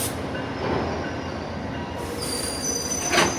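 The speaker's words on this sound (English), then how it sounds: "Baggage cars on train" Train with baggage cars rolling through Paoli station, a steady loud rail rumble and clatter with thin wheel squeals ringing above it over the whole stretch.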